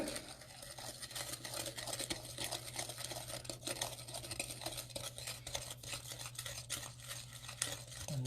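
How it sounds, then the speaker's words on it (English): A spoon stirs a cinnamon and sugar mixture for an apple topping in a bowl, giving a steady close scraping and clinking that runs the whole time beneath a constant low hum. "Mix that together real quick."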